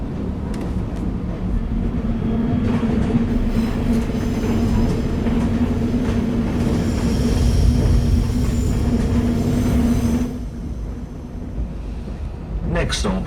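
Video game train riding along the tracks, a loud continuous rumble with a steady hum and clatter that carries on for about ten seconds before easing, with a faint squeal at the end.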